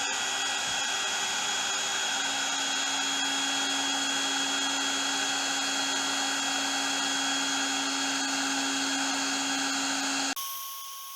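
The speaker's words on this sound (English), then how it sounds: "Some nylon webbing and the heat gun. Gonna see if I can singe the end of this so it doesn't fray." A Milwaukee M18 cordless heat gun blows a loud, steady whine with a continuous fan hum while singeing the end of nylon webbing, running alone for about ten seconds before it abruptly cuts off.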